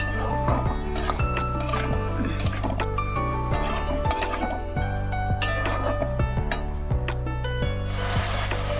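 Utensil stirring cumin powder into a thin parshe fish curry with potato and eggplant in a pan, giving a steady run of scraping clinks and knocks against the metal throughout.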